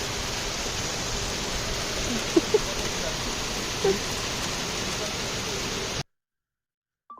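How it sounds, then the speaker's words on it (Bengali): Heavy rain pours down in Digha, a constant, dense roar of falling water with a few small taps standing out, before cutting off abruptly to silence near the end. "এতটা পরিমাণে বৃষ্টি পড়ছিল"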